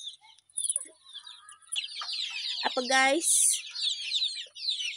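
Country chickens kept for selling their chicks cluck and squawk in a farmyard, with a rapid burst of calls in the middle that stand out over a brief spoken word and soft background chirping.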